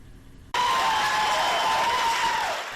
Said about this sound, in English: The old gymnasium at Mason Elementary fills with applause